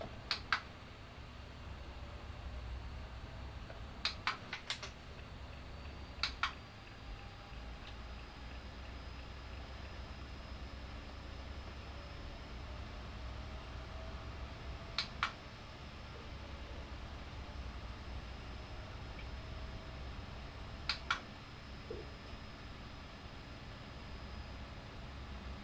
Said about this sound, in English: the clicking sound is my gear stick, or the thing that I use to change gears